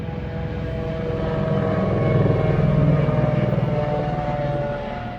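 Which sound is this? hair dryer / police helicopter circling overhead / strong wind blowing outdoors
police helicopter circling overhead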